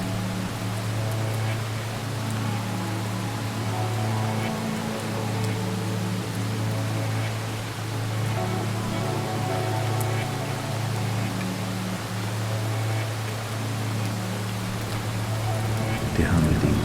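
Steady rain falls in a continuous, even wash of noise for the whole stretch, with a low droning hum underneath and no clear breaks or individual drops standing out.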